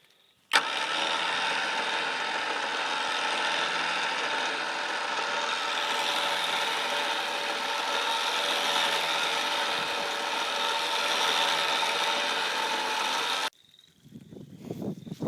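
A Jeep winch spooling its line back in under tension while stuck off-road, with a steady loud motor whine running continuously for about thirteen seconds, then stopping abruptly.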